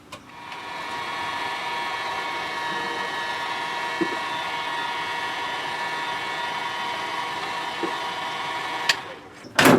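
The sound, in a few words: heat gun blowing on soldered wire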